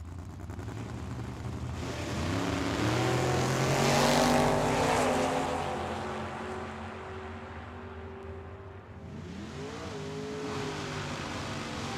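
Drag race cars launch at Tucson Dragway, engines roaring up in rising, revving sweeps that swell loud and then fade into the distance, with a second surge starting near the end.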